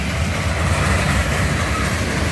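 A long CN ballast train led by ET44AC and ES44AC locomotives rolls slowly past nearby, a steady loud rumble of wagons with rail noise throughout and no voices.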